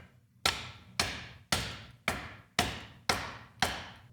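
A hammer taps a fork seal into a mountain bike fork using a Fox seal driver, seven sharp metallic knocks at a steady, even pace, close and clear with no talk.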